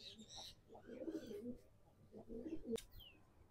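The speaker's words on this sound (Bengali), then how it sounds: "এখানে সবই আন্ধ্রা পায়রা" Andhra breed pigeons cooing in a loft, with two soft, low bursts of rolling coos, a sharp click near the end and faint background sounds.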